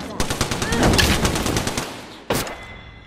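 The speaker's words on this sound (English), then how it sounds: "Shot fired, and they're hitting me." Automatic gunfire in the shooter game Apex Legends, a loud close burst of rapid rattling shots lasting about two seconds, then a single sharp shot, with faint game effects around it and no talk.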